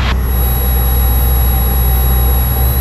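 Cabin engine noise of a training airplane on approach, a loud, steady droning roar with a constant high whine that holds evenly throughout as power is added.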